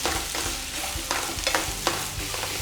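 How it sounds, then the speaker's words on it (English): Roasting vegetables stirred in a pan on the stove, with close, steady sizzling broken by irregular scraping and clattering strokes of the spoon. "So we'll just give it a stir."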